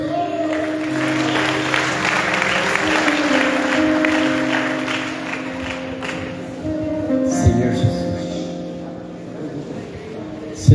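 Church congregation at a conference applauding, a sustained broad clatter of clapping that blends with crowd noise and voices, with an underlying musical hum and a louder burst near the end.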